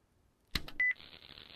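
In a video game, an answering machine gives a couple of sharp clicks and then one short, clear electronic beep, which falls away into a faint, quiet hum.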